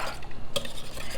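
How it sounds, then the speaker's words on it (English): Two egg whites and one whole egg are whisked together in a bowl for Greek pastitsio, a brief run of close, brisk stirring and scraping with one sharp tap on the bowl. "Now to the 2 egg whites, we're going to add 1 egg and we're going to scramble that up"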